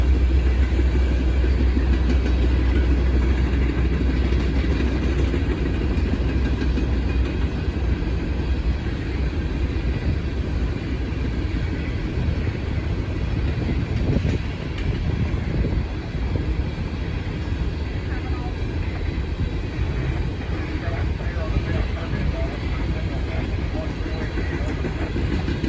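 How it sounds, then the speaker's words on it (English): Norfolk Southern 741, a coal train of about 100 empty hoppers behind a single locomotive, rumbles past steadily and loudly for the whole stretch, with a dense continuous roar of rolling wagons and faint clatter. "It was Norfolk Southern 741, carrying around 100 empty coal hoppers to Shire Oaks, Pennsylvania."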